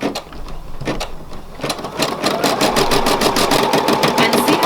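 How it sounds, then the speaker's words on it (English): An embroidery sewing machine stitching a monogram: after a couple of isolated thumps it starts up and runs in a steady, fast, close needle rhythm, a mechanical hum with rapid regular ticks. "you can lower the lever and press start again and make sure it's stitching correctly"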